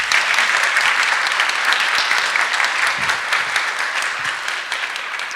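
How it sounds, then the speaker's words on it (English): An auditorium audience applauds loudly after a Q&A session, many hands clapping in a thick, continuous wash that holds steady from start to finish. "please give them a strong applause"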